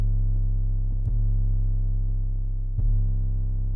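A Luger-style 808 bass sample played in reverse gives a deep, sustained low tone that swells, with two abrupt retriggers where the note restarts, alone and without talk.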